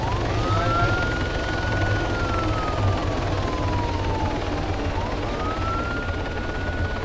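A police siren wails in the Arma 3 video game, rising and falling in slow sweeps over a steady low helicopter-like engine rumble that fills the whole stretch.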